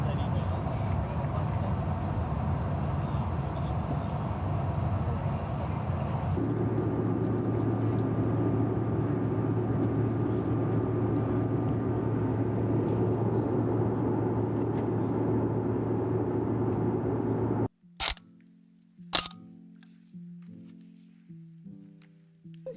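Steady broadband cabin roar inside an airliner on a short 45-minute flight, a continuous loud rushing drone with a low hum, then cut off near the end by a few sharp clicks and knocks.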